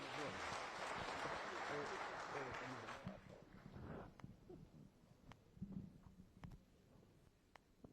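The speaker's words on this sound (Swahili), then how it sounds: "Tumpigie makofi Rose." Mourners at a funeral gathering clap for a woman being honoured, loud dense applause for about three seconds that fades into scattered claps, murmuring and talk.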